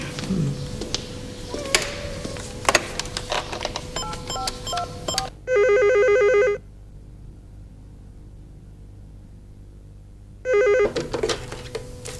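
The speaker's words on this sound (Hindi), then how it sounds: "मेरा ख्याल है मैं अभी फोन करता हूँ शर्जील को।" An outgoing telephone call rings out twice: two short electronic ringing bursts separated by several seconds of near silence, clear and close, following a stretch of faint room noise.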